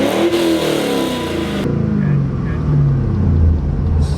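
An LS V8 engine swapped into a BMW E30 rumbles and revs up, the deep tone rising and falling under the cabin noise, with voices talking over it.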